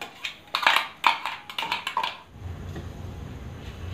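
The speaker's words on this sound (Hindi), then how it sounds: "बस इसको कटोरी में निकाल देती हूँ।" Freshly ground spice paste for a black chickpea curry is scraped from a grinder jar into a small bowl, giving several sharp metallic clinks and taps in quick succession, then a softer low rumble of handling.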